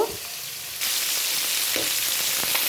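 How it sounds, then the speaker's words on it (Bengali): Fish rubbed with turmeric and salt frying in hot oil, a steady close sizzle that jumps louder partway through and then holds a dense hiss to the end. "সব মাছগুলো দিয়ে দিয়েছি সুন্দর করে ভেজে নিব"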